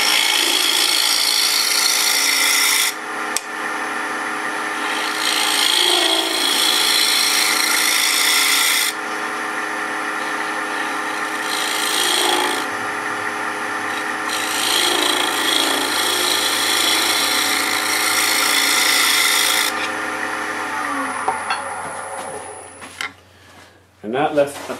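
A woodturning gouge scrapes across side grain on a spinning lathe blank, making a steady coarse rasping drone with long sustained passes broken by brief pauses, close and loud, with machine hum underneath.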